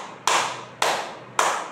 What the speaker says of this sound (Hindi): आपको ताली कैसे बजानी है आइए देखिए।